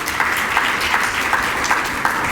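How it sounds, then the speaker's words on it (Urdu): A church congregation applauds for the pastor with even, sustained clapping that fills the room, loud and continuous throughout, with no talking on top. "تالیاں بجائیں پادری صاحب کے لیے"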